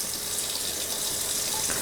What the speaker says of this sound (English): This is the hot water,